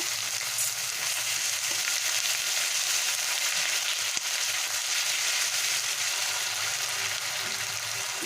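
Onion paste and ginger-garlic paste fry in hot oil in a pan, giving a steady, close hiss of sizzling that holds evenly throughout, with one faint tap midway.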